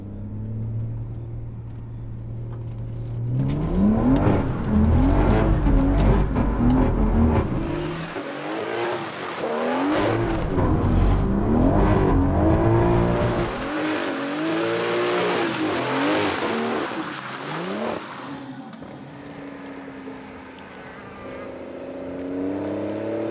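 A car driven with traction control switched off revs hard through repeated rising and falling engine pulls, loud and close, with tyre noise before it eases off to a quieter idle.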